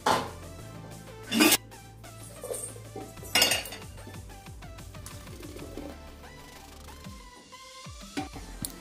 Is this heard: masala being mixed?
yes